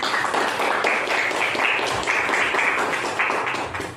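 Classroom students clap together in sustained, fairly loud applause lasting several seconds, a dense patter of many hands that tapers slightly at the end.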